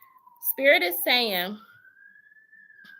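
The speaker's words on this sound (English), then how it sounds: "sorry about the sirens" A faint, steady emergency siren tone drifts slowly up in pitch in the background while a person speaks briefly over it.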